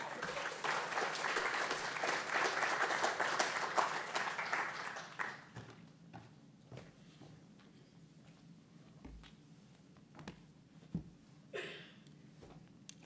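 A lecture-hall audience at the National Archives applauds to welcome a guest author, steady dense clapping for about five seconds that tapers into scattered claps and shuffling noises.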